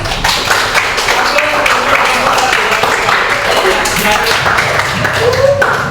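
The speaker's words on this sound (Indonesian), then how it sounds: "tepuk tangan untuk Agus" Classroom group applause for a student presenter, continuous loud clapping from a crowd of hands with voices and chatter underneath.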